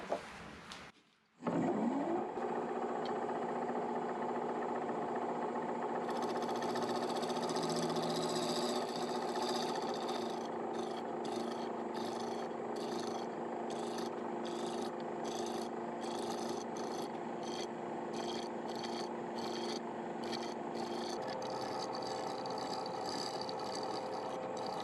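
Skew chisel used as a negative rake scraper shear scraping a spruce natural edge bowl on a wood lathe, with a steady lathe hum and a continuous close scraping rasp that pulses rhythmically with the spinning wood.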